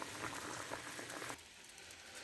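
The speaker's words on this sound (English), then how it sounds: "It's boiling." Water at a rolling boil in a pot used to soften a plastic action figure, a dense bubbling hiss that runs loud and close before dropping abruptly to a quieter, thinner simmer, with no talking.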